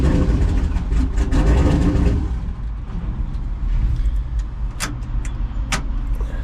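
A car engine's cold start opens with a loud, rough, low rumble that settles to a steadier idle after about two seconds, with a few sharp clicks or ticks toward the end, close to the mic and without talk.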